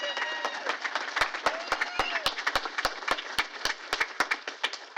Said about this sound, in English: Can you all give her a huge round of applause?